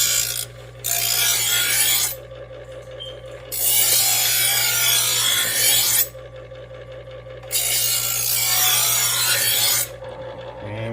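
Electric knife sharpener grinding a blade in repeated strokes, harsh rasping bursts of about one to two seconds alternating with a steady low motor hum, close and loud.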